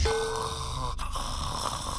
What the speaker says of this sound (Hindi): तुम तो यहाँ आने के 5 मिनट बाद खर्राटे भरने लगे